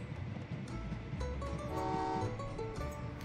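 A train runs in the railway video game Train Valley 2, with a steady rolling rumble and a sustained tonal horn toot rising partway through.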